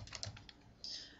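Quick keystrokes on a computer keyboard, a short burst of soft clicks followed by a slightly louder key press, close and quiet, with no talking.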